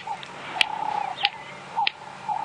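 A recorded bird call, played quietly from a phone during an early-morning safari drive, repeats as short whistled notes with a steady hum underneath.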